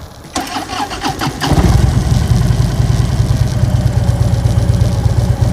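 A Harley-Davidson Switchback motorcycle engine cranks and fires up after a moment of clattering, then settles into a loud, deep, steady rumble close by.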